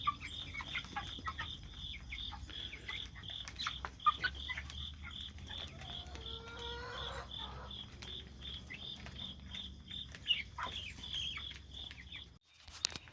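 Month-old Cornish Cross meat chickens eat and cluck softly together, with a faint, steady stream of chirps and peeps close by over a quiet background.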